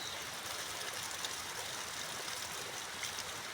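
Strong water rushes steadily from a bamboo spring at close range, a soft continuous gush with faint splashing texture and no voices.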